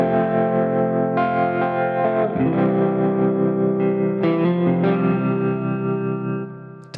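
A clean electric guitar runs through a compressor, Bluesman overdrive, tremolo and reverb, playing sustained chords and a few picked notes that ring out and fade at the end.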